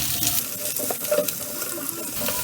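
Chopped capsicum and other vegetables being stirred and tossed in a hot pan for Indo-Chinese chilli arbi, a close, steady sizzle broken by irregular scraping and clattering strokes.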